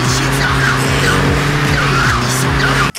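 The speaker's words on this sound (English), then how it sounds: "the ear-piercing sound effect of whenever you take too sharp of a turn and your wheels start to skid" Tires skidding and squealing as a car takes a sharp turn in the video game Grand Theft Auto 2, a loud, continuous screech over steady engine drone that cuts off abruptly near the end.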